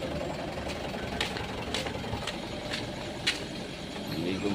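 An engine idles steadily while it warms up, a constant low rumble with broadband noise and a few faint clicks on top. No voices are heard.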